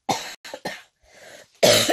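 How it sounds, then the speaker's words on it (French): A sick woman coughs: a quick run of three short, fairly close coughs, a brief quieter throat sound, then one louder, heavier cough at the end. "Alors, je tousse."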